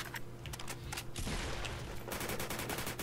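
Rapid gunfire bursts in the Roblox shooter Fortblox, a dense fusillade of quick shots with a steady background hum, fairly faint overall.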